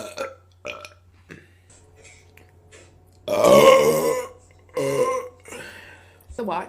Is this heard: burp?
yes